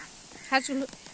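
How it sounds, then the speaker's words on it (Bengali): Ducks at a village pond give a single short, nasal quack, close and fairly loud, within a brief moment of otherwise quiet ambience. "এই যে হাঁসগুলো চেঁচাচ্ছে, দেখছিস কেমন?"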